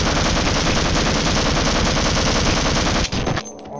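Sustained rapid automatic gunfire from the Half-Life Opposing Force video game, loud and continuous for about three seconds before abruptly cutting off into a brief echoing tail.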